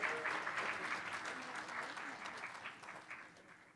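Applause for school honorees at a Board of Education meeting, with a room of people clapping steadily at moderate volume for several seconds and gradually easing off.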